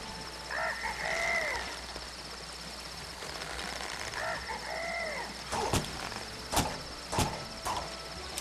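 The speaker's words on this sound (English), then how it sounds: "We're just making that little bird sound." Small bird chirps in the video game Trine 2, a few brief high tweeting calls in two bursts over a steady game background, followed by several sharp clicking or tapping hits.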